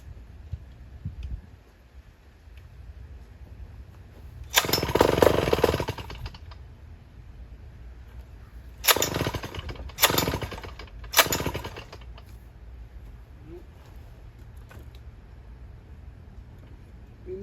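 A chainsaw is pulled to start but fails to catch: one longer rasping burst followed by three short ragged pulls, each sputtering briefly, against a quiet background.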